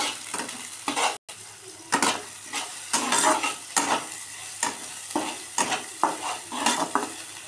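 Bay leaf, dried chilli, cumin and onion sizzle in hot oil in a kadai while a spoon stirs and scrapes in repeated strokes, close and moderately quiet.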